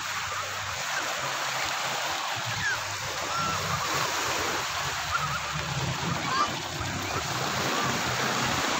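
Seawater splashing and washing against a seawall as the tide rises, a continuous loud rushing surge with occasional stronger splashes, heard close by.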